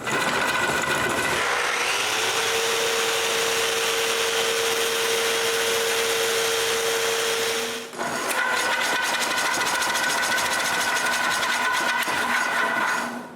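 A power sander runs steadily on a wooden bandsaw wheel, a continuous high whine with a brief dip near the eight-second mark before resuming with a slightly different pitch.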